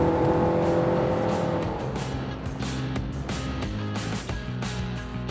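The CVT-equipped engine of a 2016 Nissan Rogue drones and revs in a smooth, continuous rise without distinct gear shifts, fairly close and steady throughout.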